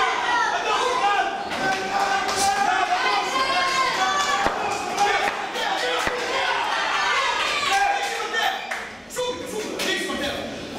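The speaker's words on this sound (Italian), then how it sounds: "Sono sottolineati dagli applausi del pubblico di casa" A home crowd applauds at a boxing match, dense, continuous clapping and cheering that fills the arena throughout, with a commentator speaking over it.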